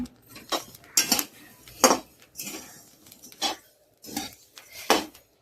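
Coriander seeds are roasted in a little oil for a homemade kala tikhat spice mix, and a metal spoon clinks and scrapes against the pan in irregular bursts.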